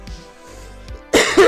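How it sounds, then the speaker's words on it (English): A person clears their throat with a brief, close, rough burst near the end, after a few quiet breaths and soft sounds. "Let me clear my throat"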